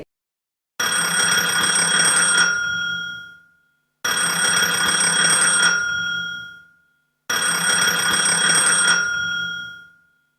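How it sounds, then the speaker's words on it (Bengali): A telephone rings in three identical long bursts, each about two seconds of bright, steady electronic-bell tone separated by short silences, loud and close with nothing else heard. "শুনতে পেল ওপাশে রিং হচ্ছে।"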